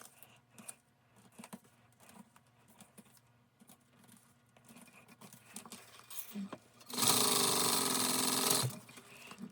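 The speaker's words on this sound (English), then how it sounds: "I'm going to top stitch these." A sewing machine top stitching fabric for a crossbody bag starts after scattered soft handling clicks and runs steadily and fairly loudly for about two seconds before stopping abruptly.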